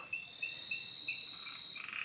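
Night chorus beside a pool in Yangmingshan National Park, Taiwan: a steady high-pitched trilling with short repeated chirps, faint and continuous, with no voices.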